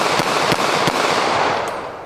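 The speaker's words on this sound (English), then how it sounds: "Normally, I would not be shooting an ammo can." A CZ-75 semi-automatic pistol firing Federal Premium rounds at a rusted ammo can outdoors: three sharp, loud reports in quick succession, each with a brief ringing tail and no talking.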